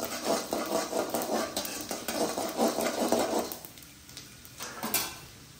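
Mustard seeds with chana dal and urad dal crackling and frying in a pan for gut fry, a busy close sizzle with stirring and utensil clatter that fades off near the end.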